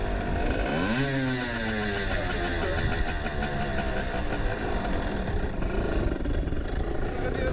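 A motorcycle engine, ridden by a first-time rider, revs up with a rising, throaty pitch, then settles into a loud, steady running drone close by, with a voice faintly heard.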